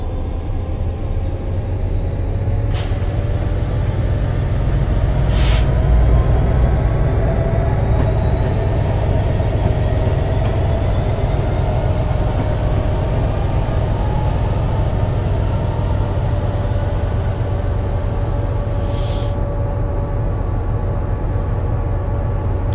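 A metro train in Train Simulator rolls along with a steady low rumble and whine, a few sharp clicks and squeals along the way, continuous and fairly loud.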